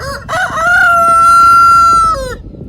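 A rooster on a homestead lets out one loud, close crow, a long sustained call that cuts off sharply.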